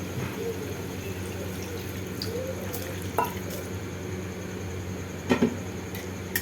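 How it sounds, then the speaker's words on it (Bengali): Hot water is poured into a kadai of cooked-down masala for a boal fish curry, a fairly quiet, steady watery flow with a few small splashes and drips near the end. "এবার আমি গরম জলটা দিচ্ছি।"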